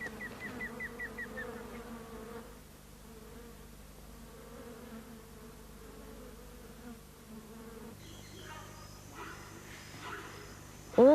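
A wasp in Manu National Park in the Amazon, a species that hunts live horseflies, buzzes steadily for several seconds at close range, its hum varying in pitch, with other insect and outdoor sounds coming in later.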